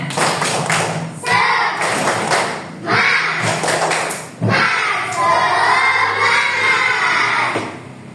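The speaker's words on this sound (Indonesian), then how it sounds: "Kita tepuk semangat dulu ya. Ya, tepuk semangat." Elementary schoolchildren in a classroom perform the 'tepuk semangat' clapping chant: bursts of rhythmic group clapping and chanted voices, broken by short pauses and ending in a long stretch of loud mixed voices.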